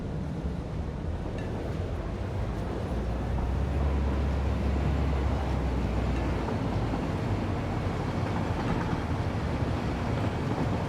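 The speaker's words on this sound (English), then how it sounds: "That's my train, and now I have to drive the train." A train in the video game Satisfactory rumbles along the track, a continuous loud low drone that swells heavier partway through as it picks up speed, with no talk over it.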